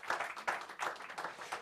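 Applause welcoming the Executive Mayor of Mangaung Metropolitan Municipality at a press conference, a moderate crowd clapping in uneven swelling bursts across the short stretch.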